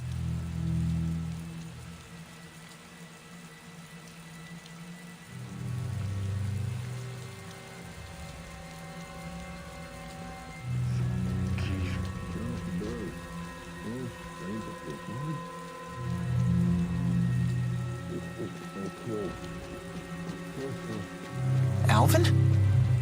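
Steady rain in the video game Tales of Xillia, a continuous hiss of falling drops on surfaces beneath background music, with game sound effects and a brief sharp tone near the end.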